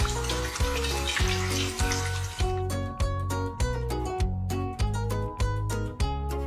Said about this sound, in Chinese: 然后继续炸已经裹好粉的另外3只鸡腿